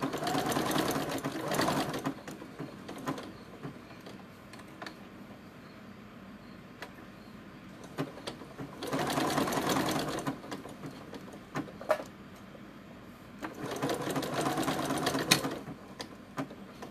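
A sewing machine runs in three separate bursts of fast, steady whirring stitching, each lasting a couple of seconds, with quiet pauses and light handling clicks between them.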